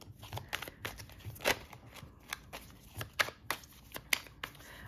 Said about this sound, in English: I'm just going to shuffle a bunch of times.